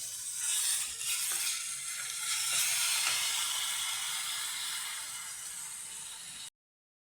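Onions with ginger garlic paste frying in a pan for chicken vermicelli biryani, a bright continuous hiss of sizzling oil with a few stirring scrapes, close up, then cut to silence at the end.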